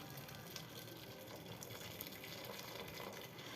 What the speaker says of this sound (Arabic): ادي كده ننزل بقى بالميه السخنه بتاعتنا ديت